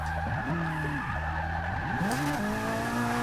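Supercar with about 600 horsepower drifting in the racing game Forza 6, tires skidding and squealing continuously over a steady, loud engine drone that rises and falls with revs.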